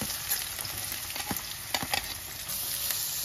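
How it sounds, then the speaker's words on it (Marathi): Chopped onion dropped into hot oil for a wild mushroom curry, giving a steady broad frying hiss with a few brief clinks and stirring knocks in the middle, close and moderately loud, no voices. "तर तेल तापलंय आणि आता तेलात कांदा टाकते."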